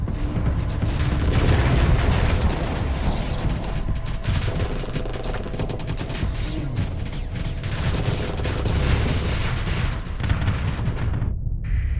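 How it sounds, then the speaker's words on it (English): Ships exploding in the space combat game Starsector, dense rapid booms and crackling blasts layered over one another, loud and continuous before cutting off abruptly at the end. "A final terrific explosion blanks the external visual pickups."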